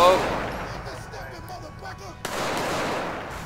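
Gunfire in the video game GTA 4 during a police patrol mod: a loud blast at the start fades into rumbling noise, with a sharp crack midway before the din returns.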